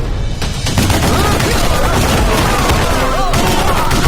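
Loud, dense gunfire erupts in a rapid, continuous barrage of shots and booms that fills the whole stretch without pause.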